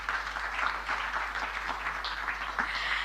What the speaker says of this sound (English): I think we can give the Deputy President a round of applause.